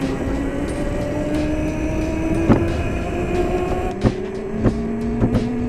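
A homemade motorized wagon on a speed run through an office park: a steady motor whine climbs gradually in pitch as it speeds up, with a few sharp knocks and rattles near the end.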